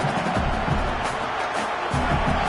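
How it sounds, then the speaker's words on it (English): Stadium crowd cheering in a college football video game, a steady broadband roar filling the whole clip at moderate level with no clear breaks. "This crowd, full throat, spreading the eardrums and letting them know it's going to be a long day."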